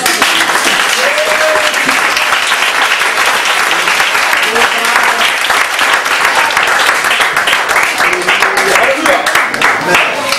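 A church congregation bursts into sustained applause and cheering, dense and continuous from start to end, loud and close, with raised voices mixed into the clapping.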